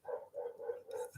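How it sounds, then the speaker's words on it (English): A dog barks in the distance near an ancient church and graveyard in the Irish countryside where cows graze: four evenly spaced, fairly faint barks across about a second, with no talk. "That's someone else's dog."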